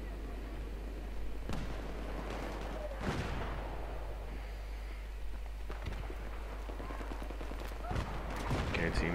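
Gunfire in a Battlefield 3 multiplayer match comes as scattered sharp shots and bursts at moderate, fairly distant levels, mixed with game noise while a player talks.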